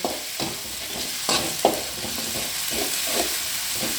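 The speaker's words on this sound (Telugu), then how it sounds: "ఇది పచ్చి వాసన పోయే వరకు ఫ్రై చేయాలండి." Ginger garlic paste frying in a pan for an egg pepper fry, with a continuous sizzle under repeated stirring scrapes and a few sharper taps of the spoon.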